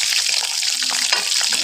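Food frying in a pan, a steady broadband sizzle with crackle and bubbling throughout, close and continuous, no voices.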